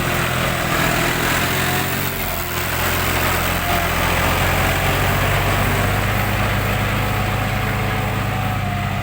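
A heavy tractor engine drones steadily nearby, a loud continuous rumble with a slight dip in the middle.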